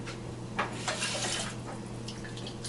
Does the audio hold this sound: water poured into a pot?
yes